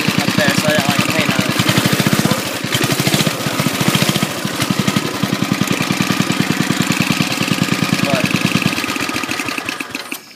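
A racing lawn mower engine runs loud and close with a fast, steady firing rhythm. The small engine idles continuously and blows a little fuel back out of the carburetor.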